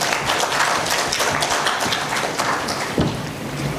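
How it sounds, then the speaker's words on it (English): Sustained audience applause at an education leadership summit inauguration, a dense, steady patter of many hands clapping at moderate loudness throughout, without a break. "Huge round of applause to Colonel Professor Y.S. Siddegowda"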